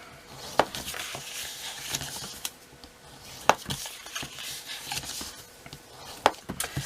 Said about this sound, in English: first of all what I want to do is fold and burnish all my score lines